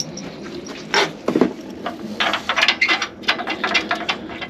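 Bolts being fitted by hand into a Pentair pool heater: scattered close metallic clicks, taps and rattles in irregular bursts against a quiet background, no voices.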